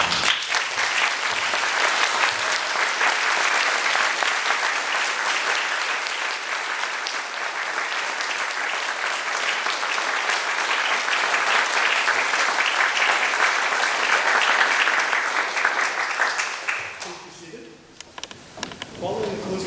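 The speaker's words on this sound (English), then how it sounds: "give our Eagle Scouts another round of" A standing audience gives long, sustained applause for Eagle Scouts at a court of honor, steady dense clapping for about seventeen seconds before it fades and a few scattered claps and sounds of movement follow.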